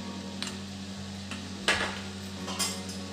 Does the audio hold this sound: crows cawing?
no